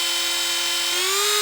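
HARDELL 8V cordless rotary tool spinning up to its fastest speed, a thin high whine that steps upward in pitch and gets louder midway, close and alone.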